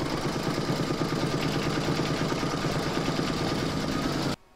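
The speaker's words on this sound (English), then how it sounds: "You're now going to pop that back into your machine and stitch round number 3" A machine-embroidery stitch round runs close up, securing vinyl on an in-the-hoop dog pouch: a fast, steady mechanical chatter and hum that continues evenly, then stops abruptly at the end.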